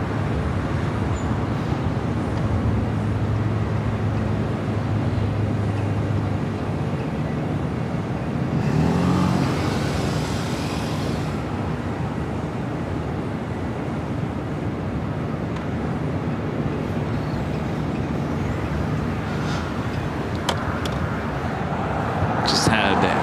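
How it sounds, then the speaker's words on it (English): A passenger airliner touches down on the north side runway at Los Angeles airport, heard as a steady distant engine roar with traffic-like rumble and a brief louder rush partway through, with radio voices talking over it. "flight 11 touching down there on the north side"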